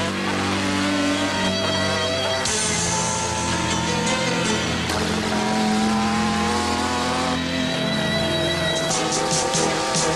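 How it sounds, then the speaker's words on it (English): A street motorcycle chases a car around a race track under two miles long, the engine noise loud and continuous, with rising and falling revs and tire noise throughout. "The street bike is now catching the car very quickly."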